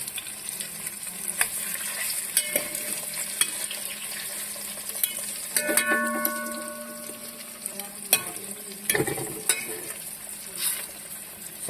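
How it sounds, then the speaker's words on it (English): Pig tails brown in a frying pan for Louisiana-style smothered pig tails, giving a soft, steady sizzle with scattered clinks and scrapes of stirring and handling. "So yeah, we're gonna brown them,"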